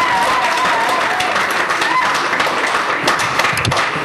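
A crowd at a Paris gala of an African economic forum applauds steadily, a dense wash of clapping close and loud throughout, with a voice faintly audible beneath.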